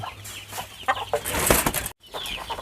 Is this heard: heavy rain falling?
no